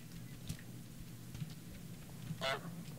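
A single loud goose honk from Untitled Goose Game bursts out near the end over a steady low background hum, with no talking.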